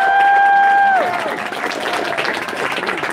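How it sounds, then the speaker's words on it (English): A fight-event crowd cheers and applauds for the fighters, loud and sustained, with a sustained vocal tone fading out at the start before the roar of clapping and shouting takes over. "Come on, give our warriors a cheer!"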